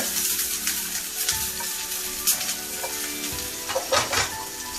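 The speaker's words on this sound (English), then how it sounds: "And my oil is hot. And the first thing I do is give me some good old onions and toss my onions in this pan right here" Onions tossed into hot oil in a pan for beef tips and gravy, a crackling sizzle with scraping and stirring clatter from the pan, close and with no talk.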